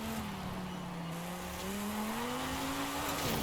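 A race car slides sideways in Forza Horizon 5, its engine droning steadily as tires squeal through the slide, loud and continuous without voices.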